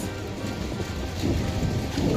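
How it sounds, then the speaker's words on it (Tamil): Thunder rumbling through steady rainfall on a rainy day, a continuous loud rain hiss with a low rolling rumble building toward the end, no voices. "வானம் இடி இடிக்கிற சவுண்டு கேட்குதா"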